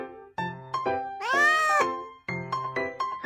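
A cartoon-style cat meows several times in a hearing-test game. Short mews come before and after one long, rising and falling wail, all close and clear, with no talking.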